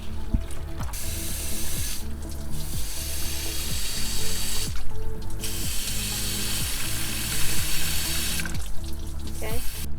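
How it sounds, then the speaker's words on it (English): Water is forced through the disconnected heater core hoses of a Jeep Cherokee during a flush, making a loud, continuous rushing and gurgling with repeated metallic clanks and rattles throughout. "To flush the heater core, disconnect both heater hoses and force water through the outlet side."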